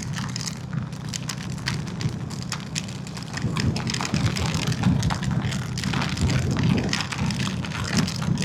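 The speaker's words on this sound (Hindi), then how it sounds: "भाई ये तो बहुत ही ज़्यादा तेज़ बारिश हो रही है" Heavy rain pours steadily onto a vehicle on the road from Amritsar to Srinagar, a dense continuous patter and hiss that swells louder midway and stays close and unbroken throughout, with no one speaking.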